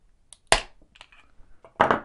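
A Vauxhall plastic flip key case squeezed until it cracks open, giving two sharp close snaps about a second apart with small plastic clicks and rustles between them.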